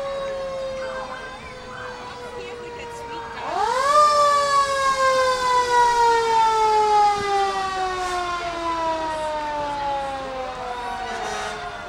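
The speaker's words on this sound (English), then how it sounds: "the sirens are going by in town of Paris" Several sirens wail together during a veterans parade in Kenosha, rising and then slowly falling in pitch, loud and sustained as emergency vehicles pass close by.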